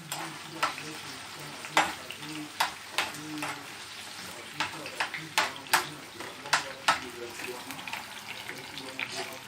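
Bell peppers fry in hot oil in a pan for a white cabbage recipe, a soft steady sizzle broken by repeated sharp clicks and scrapes of stirring, fairly faint and close.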